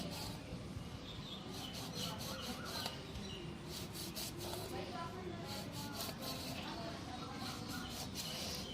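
A knife draws repeated slits into a whole fish being prepared for grilling, a series of short, close rasping strokes in an uneven rhythm over a steady low background.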